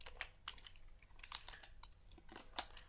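Quiet keystrokes on a computer keyboard while HTML code is entered, a short irregular run of light clicks over low background hum, without talking.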